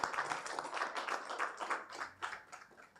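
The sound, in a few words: audience applause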